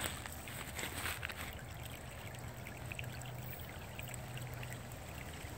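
Cold creek water runs and trickles close by in a steady, continuous babble that stays fairly quiet and unbroken from start to end.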